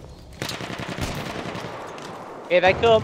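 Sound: machine gun fire in Battlefield 1 video game

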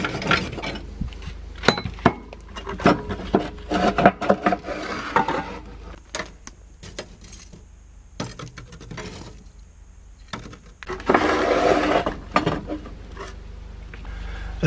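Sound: raking out ashes from a narrowboat stove

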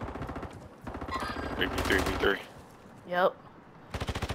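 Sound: gunfire in the video game Call of Duty: Warzone

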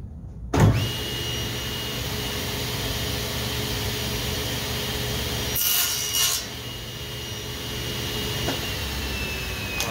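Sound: sawing wood pieces for RC plane fuselage

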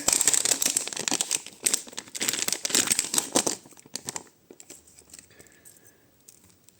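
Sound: plastic packet crinkling

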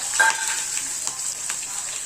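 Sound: mustard seeds crackling in hot oil

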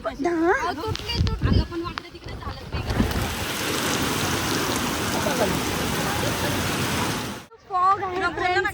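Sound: heavy monsoon rain in Lonavala

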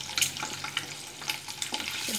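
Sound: boiled eggs shallow frying with turmeric and chili

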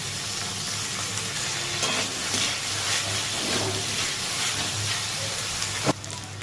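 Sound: chicken frying in a wok

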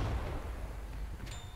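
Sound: BS-3 gun firing in Men of War 2 video game

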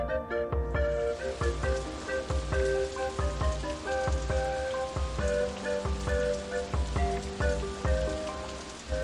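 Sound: rain in the video game OpenRCT2

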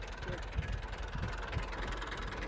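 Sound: tractor engine idling

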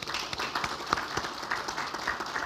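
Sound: congregation applauding in church

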